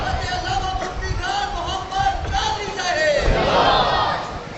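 A crowd at a religious gathering recounting the events of Karbala shouts a devotional chant together, loud voices swelling into a broad roar toward the end.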